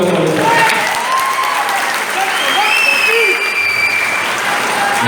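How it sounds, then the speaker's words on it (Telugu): A large crowd at a political rally in Nalgonda claps loudly and continuously, with shrill whistles rising over the applause and a voice heard beneath it. "గట్టిగా చప్పట్లు కొట్టారు"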